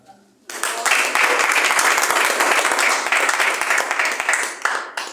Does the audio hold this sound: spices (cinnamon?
no